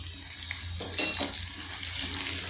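Pieces of bitter gourd (karela) frying in oil, giving a continuous close hiss with a brief louder crackle near the middle.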